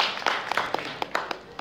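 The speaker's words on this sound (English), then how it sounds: "Let's give a round of applause to Sir Charles Carey for putting this on." A small audience applauds after a speech at a gathering: a short burst of scattered, uneven claps at moderate loudness, fading slightly.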